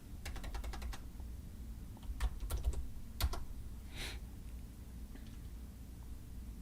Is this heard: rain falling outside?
no